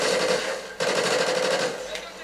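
Automatic gunfire in the video game Call of Duty Ghosts, a loud steady burst of rapid shots that breaks off briefly and resumes, continuing for about two seconds.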